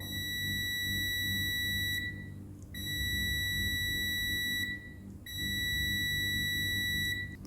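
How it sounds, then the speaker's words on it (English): A multimeter in continuity mode, used while repairing a piano keyboard sustain damper pedal, gives a steady high-pitched electronic beep that sounds in three long tones, each cut by a short gap, over a low background hum. "when we test with diode and continuity test like this, it will be beeping"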